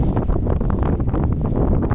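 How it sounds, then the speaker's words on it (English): Gusty wind sweeping across an open golf course with gusts up to about 40 mph, a steady broadband roar and buffeting against the microphone throughout, with no talk. "Gusty, up to about 40. plus mile an hour when they gust."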